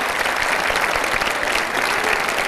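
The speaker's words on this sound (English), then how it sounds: "I want a big round of applause for this fantastic group of musicians." An audience claps for a group of musicians at a variety show, a loud, close, continuous burst of many hands without any voice above it.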